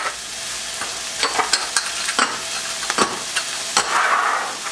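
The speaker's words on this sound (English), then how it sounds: "You can smell that lemongrass cooking. I'm going to go ahead and add our garlic to it now." Garlic and lemongrass sizzle steadily in a hot pan, with frequent sharp spatters and the scrape of stirring over a soft, continuous frying hiss; no voices.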